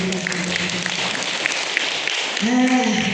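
A church congregation at a Sunday service claps together in a brief burst of applause, with voices and a tonal sound entering near the end.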